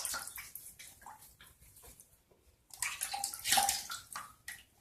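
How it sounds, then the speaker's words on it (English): Water splashed onto the face at a bathroom sink before a wet shave, heard as a run of close, rushing splashes with a louder, busier burst in the second half and no talking. "Splash my face once."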